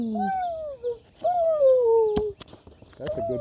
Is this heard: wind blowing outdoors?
no